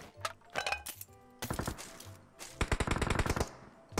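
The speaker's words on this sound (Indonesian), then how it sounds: "Ini cuma shotgun ya, kita bantai ya." Video game gunfire from PUBG Mobile, with shotgun blasts among the shots, arrives in loud, sharp bursts: scattered single shots early on, then a fast rapid-fire string near the end, with no talking.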